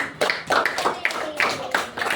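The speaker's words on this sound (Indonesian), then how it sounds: "Oke, tepuk tangan dulu." Children in a fourth-grade classroom clap together in a short burst of rhythmic hand claps, close and fairly loud, with voices mixed in underneath.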